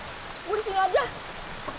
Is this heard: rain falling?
yes